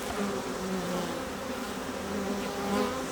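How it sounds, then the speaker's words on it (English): A dense, steady buzzing of many bees being blown out of hive boxes at a manuka honey apiary fills the air continuously, loud and close, with a low droning hum and no voices. "we're blowing the bees out of the boxes"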